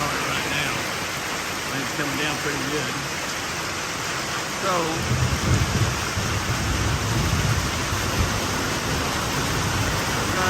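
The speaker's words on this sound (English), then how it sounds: "Now it's raining a lot harder right now. Rain's coming down pretty good." Heavy rain pours down steadily during a thunderstorm with a tornado approaching, a dense continuous hiss that grows slightly heavier partway through, with low rumbling beneath and a brief spoken word.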